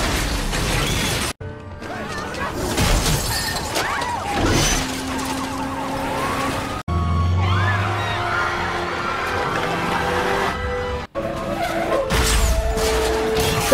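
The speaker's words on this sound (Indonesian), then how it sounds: "mobil itu dikendarai dengan kecepatan tinggi dan sedikit brutal" Car driven fast and recklessly with tires skidding, loud and close, alongside crashing impacts and wailing sirens in a dense chaotic action scene with brief cuts to near silence.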